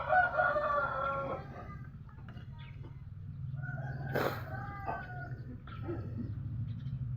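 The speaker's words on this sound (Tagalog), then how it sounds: "ang ingay ng manok" A rooster crows at moderate distance over a low background hum, with a louder crow midway and further clucks and fowl calls around it.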